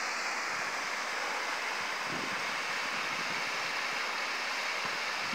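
The Terzolle stream flows by in a constant broadband rush of moving water, with light wind buffeting the microphone now and then and no talking.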